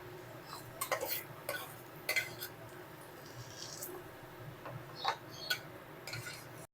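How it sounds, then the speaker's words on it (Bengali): A utensil scrapes and clinks against a pan as fried onions are lifted out of hot oil, with light, irregular metallic taps and clatters at close range and no speech. "এবারে তেল ঝাড়িয়ে পেঁয়াজ ভাজাগুলো তুলে নেবো"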